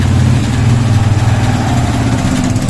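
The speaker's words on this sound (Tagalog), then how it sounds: "saglit, maingay yung motor" A motorcycle engine idles close by, loud and throbbing with a quick, even pulse.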